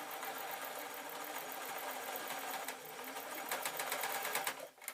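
Modern sewing machine stitching a purple bat wing dress, a steady fast mechanical whirr with rapid needle rhythm throughout, close and alone.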